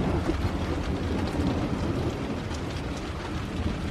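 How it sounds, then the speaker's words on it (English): Rain easing toward a drizzle makes a steady, dense hiss with a low rumbling undertone, holding at an even level throughout and with no one speaking. "Rain calmed a little bit. Now to some drizzles."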